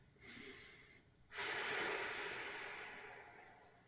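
Deep, heavy breathing during a leg workout, a short breath followed by a long, loud exhalation that fades out slowly.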